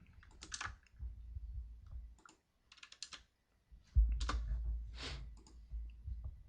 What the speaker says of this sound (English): it's just my keyboard's very loud sometimes, and I do get very frustrated